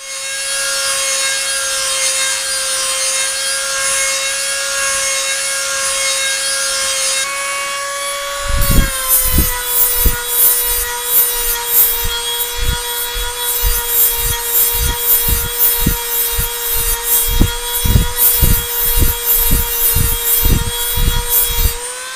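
Rough, worn surface of an Aprilia Pegaso 650 starter clutch part being sanded by hand, a steady rasping rub with rhythmic strokes growing louder and more regular in the second half, over a constant tonal hum.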